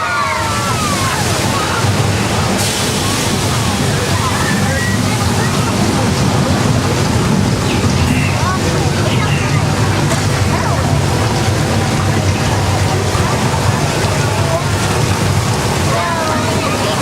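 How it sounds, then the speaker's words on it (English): Rushing water roars loudly and continuously, a dense churning wash like a torrent pouring past close by: a staged flash flood effect at a Universal Studios Hollywood tram attraction. "there is a flash flood."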